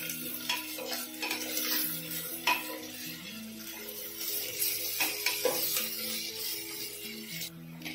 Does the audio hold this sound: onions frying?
yes